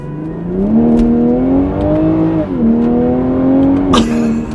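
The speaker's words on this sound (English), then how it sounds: "like a high-pitched, loud sucking noise with a little bit of like a blow-off" A Toyota A90 Supra's B58 engine with an AMS carbon fiber intake drones loudly with a rising whirring intake tone, shifting pitch as it revs, then a quick hissing blow-off release near the end.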